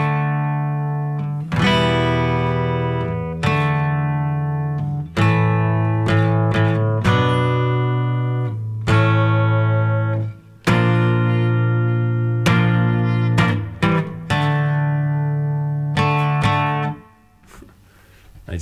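Electric guitar plays the verse 3 part of a song: loud, sustained strummed chords ringing in bursts with brief gaps, close and unaccompanied, ending as the last chord fades.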